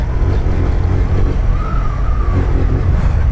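A motorcycle rides around during a training course, its engine a loud, steady, close rumble under heavy wind buffeting, with a brief rise in pitch midway.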